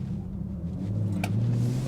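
A 2020 BMW M340i xDrive in Sport Plus mode gives a steady, low engine rumble with a faint rising hum, heard from inside the car with no talk.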